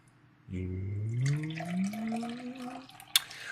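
Oakham JHB bitter, a 4.2% beer from a 500 ml bottle, glugs into a glass in one continuous pour that rises in pitch as the glass fills, close and clear, and ends with a short clink.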